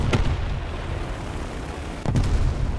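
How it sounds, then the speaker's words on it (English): Bombs dropped on an enemy base in the War Thunder game burst in two heavy, booming blasts, one near the start and a second about two seconds later, over a steady engine drone. "I'm about to drop all the bombs on this unfortunate little base here"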